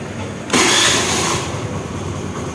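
A Honda Activa scooter with a broken battery wire starting up: an abrupt loud burst of engine noise about half a second in that settles into a steady idle, close by, with no talking.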